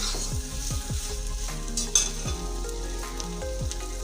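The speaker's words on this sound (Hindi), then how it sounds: "अब मैं इसे हल्की सी फ्राई कर लेती हूँ।" Mashed cauliflower filling for gobhi parathas is stir-fried in a pan, a close sizzle under repeated rhythmic scraping strokes of a spatula, with no one talking.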